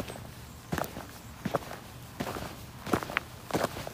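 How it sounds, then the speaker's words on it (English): Footsteps in new shoes on a hard floor, five or six distinct steps at an uneven pace, fairly close, with faint scuffs between them and no talking. "Breaking in these new shoes."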